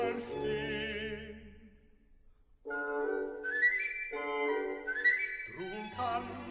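Papageno's rising pan pipe flourishes from Mozart's opera Die Zauberflöte, short whistled runs answering one another between sung phrases with orchestral accompaniment, clear and fairly loud.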